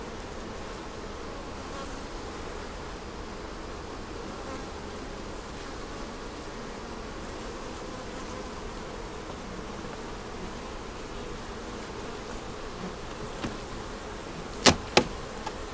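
Honey bees buzz continuously around a hive, a dense steady drone close to the microphone throughout, with a couple of sharp knocks near the end and no talking.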